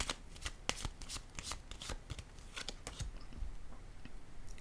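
Tarot cards are handled and laid down on a table, a run of crisp, close slaps and riffles that come in quick irregular bursts and then taper off to a softer rustle.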